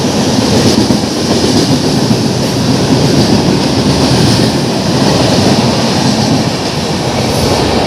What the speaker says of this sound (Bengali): পাহাড়ি স্টেশন চললো Hyderabad Kolkata Express